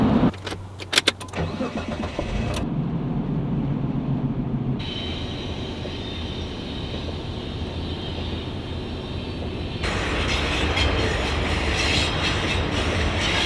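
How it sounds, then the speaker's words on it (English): A train rumbles past a stopped vehicle at a crossing in Ontario, steady continuous rolling noise and clatter, a few sharp knocks at the start, growing louder toward the end. "We're stopped at the train."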